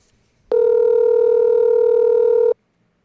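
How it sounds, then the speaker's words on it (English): A telephone handset on an outgoing call gives a steady electronic ring tone lasting about two seconds, loud and close, alone with silence before and after. "Okay, it's rang twice. So hopefully they actually pick up."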